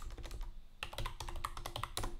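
Typing a folder name on a computer keyboard while setting up Perl and Dancer2, heard as close, quiet clusters of crisp key clicks in irregular bursts with short pauses between them and no speech.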